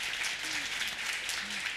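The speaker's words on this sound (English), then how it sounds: "Yes, you can clap." An audience at a military spouse tribute event applauds, a soft, even patter of many hands held at a steady moderate level, with a faint voice briefly audible underneath.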